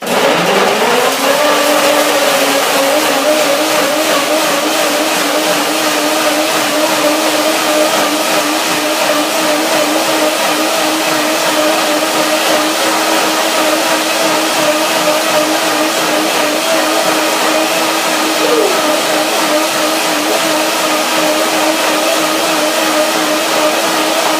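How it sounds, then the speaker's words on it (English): A kitchen blender whirs steadily as it mixes orange, spinach and lemon into a vegan raw smoothie, its motor spinning up at the start and holding one loud, continuous drone for the whole stretch. "Blender dance."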